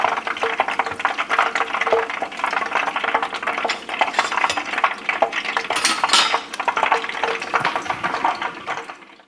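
Beer-battered chicken breast fries in a pan with a continuous crackling sizzle, broken by frequent clinks and scrapes of utensils against the cookware.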